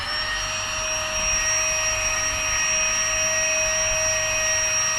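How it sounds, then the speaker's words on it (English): A Flextailgear electric boat pump inflating a single chamber of an inflatable boat to 1 psi, a loud, steady motor whine with a high tonal hiss that runs unbroken and close throughout. "I'm inflating this one to 1 psi as well."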